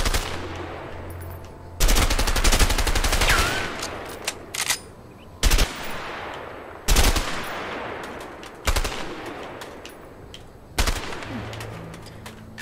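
Rapid automatic gunfire during target practice in the video game A Way Out, loud close bursts of varying length, one long sustained volley followed by several shorter rattling bursts separated by brief pauses.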